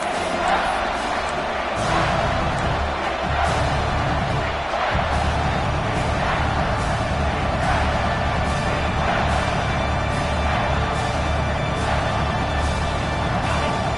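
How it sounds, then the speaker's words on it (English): Football stadium crowd roaring steadily for the defense during a red-zone stand, a dense, loud wall of cheering with scattered shouts and claps throughout. "The crowd getting behind this defense as they try to get a stop in the red zone."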